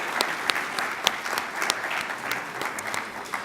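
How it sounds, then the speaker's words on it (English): A healthcare conference audience in the Cayman Islands claps in a sustained round of applause, with some sharp individual claps standing out above the steady crowd clapping. "Let's give them a big round of applause."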